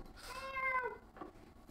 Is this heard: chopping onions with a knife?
no